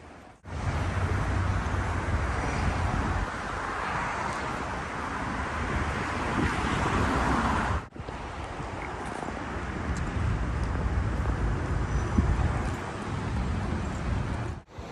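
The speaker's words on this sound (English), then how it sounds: "hopefully you can hear me over all this wind" Strong outdoor wind gusts on a blustery day outside a county historical museum in Lima, Ohio, a loud, continuous roaring buffet that batters the microphone, with a brief drop near the middle before the rumble resumes.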